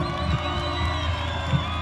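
A concert audience at a Santa Cecilia celebration cheers and applauds. A steady crowd roar comes with whoops and shouts, and a few louder bursts rise through it.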